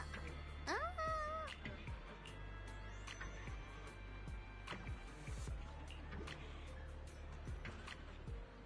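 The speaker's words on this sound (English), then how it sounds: "Why the fuck is he wearing a bell? I know he's a cat Thyron, but why?" Small bell jingling on a cat character in the video game Zenless Zone Zero, a bright tinkling burst near the start with a few meows or chirps over steady low game ambience.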